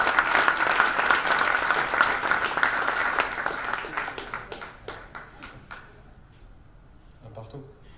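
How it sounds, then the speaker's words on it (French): An audience at a women's football club evening in Monaco claps loudly, a dense wash of hands that gradually thins to scattered claps and fades out over several seconds. "Et on peut l'applaudir très fort."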